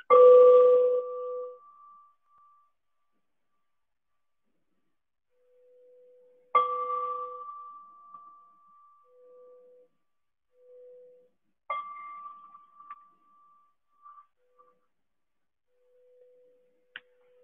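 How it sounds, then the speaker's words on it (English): A meditation bell sounding like an ancient church bell rings three times at spaced intervals, each strike clear and resonant, then decaying slowly into near silence with a faint lingering hum between strikes. "I almost hear like an ancient church bell or something like this"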